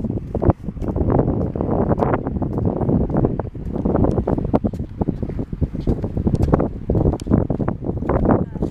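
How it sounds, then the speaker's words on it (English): Wind on Fairhope Pier buffets the microphone continuously in heavy, rumbling gusts, close and loud throughout. "A little windy."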